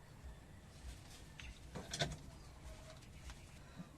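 A racing pigeon coos softly once or twice against quiet background noise, fairly close.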